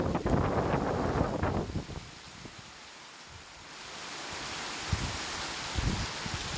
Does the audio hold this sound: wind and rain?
yes